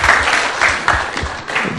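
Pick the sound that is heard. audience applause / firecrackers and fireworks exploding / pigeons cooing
audience applause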